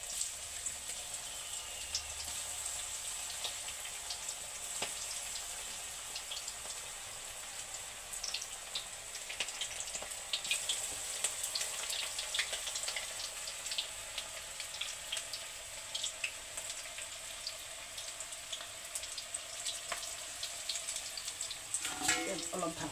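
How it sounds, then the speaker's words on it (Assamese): Pakoras made with ship bananas frying in oil, giving a continuous crackling sizzle with dense little pops that build slightly toward the end, with no voices over it. "পকৰি বহাই দিলোঁ।"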